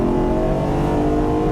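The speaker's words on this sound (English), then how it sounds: "this is a high revving V8, but it makes good amounts of power and torque" A 2017 Ford Mustang FP350S factory racecar with a high-revving V8 pulls hard on track, its engine a steady loud drone heard up close from inside, continuous and unbroken.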